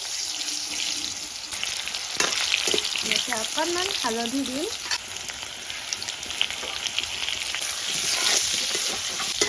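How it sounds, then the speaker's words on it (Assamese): Potato pieces frying in hot oil as a first step toward an eel fish curry. A steady, close sizzle runs throughout, with a few utensil knocks, and a voice speaks briefly in the middle. "তেল গৰম হোৱাত আলু কেইপিচ এতিয়া ভাজি ল'ম।"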